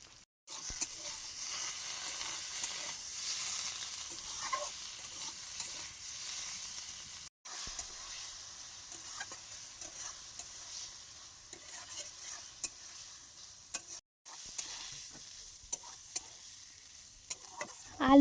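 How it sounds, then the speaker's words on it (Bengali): Potatoes with chilli powder, salt, cumin, ginger and green chilli paste frying in a pan while being stirred, a steady hiss of sizzling with scraping stir strokes throughout, briefly cut twice. "দিয়ে ভালোভাবে আমি এটা কষিয়ে নেব।"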